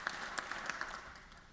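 An audience at a State of the Judiciary address gives a short, soft burst of applause, with scattered claps heard from a distance that quickly die away.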